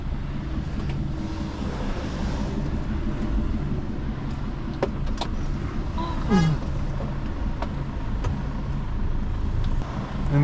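A vehicle reverses slowly on a farm, its engine a steady low rumble that runs throughout. A short tonal toot rises briefly partway through.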